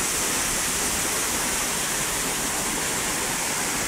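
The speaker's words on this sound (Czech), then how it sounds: "Ty vole, to je řeka. To se to zvedá." Floodwater rushes along a street in Kyjov after a thunderstorm, a loud, steady broadband roar of moving water with no break.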